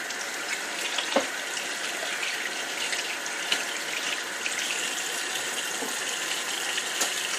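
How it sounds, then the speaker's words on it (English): Water from a tap runs steadily into a sink during handwashing, a continuous hissing gush at moderate level with faint splashes and no talk. "Okay, so I'm going to wash my hands."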